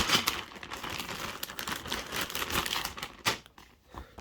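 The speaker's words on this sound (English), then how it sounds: "let's open the Ziploc bag." A plastic Ziploc bag holding LEGO parts is opened up close, with a quiet run of crinkling, rustling and snapping plastic and a sharper crackle near the end.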